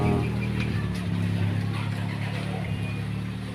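Dump truck loaded with soil rolling along a potholed, patchy road under repair, a steady low engine drone close by and continuous throughout.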